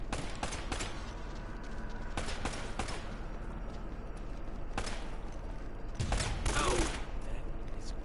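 Bursts of gunfire ring out in Uncharted: Drake's Fortune, several sharp volleys spaced across the moment, the loudest cluster near the end, against a steady game background with no talking.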